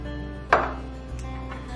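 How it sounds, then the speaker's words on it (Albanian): A spoon stirs pumpkin byrek filling in a bowl after a spoonful of oil is added, giving two sharp scraping knocks about a second apart over a steady low background hum. "E trazojmë përsëri."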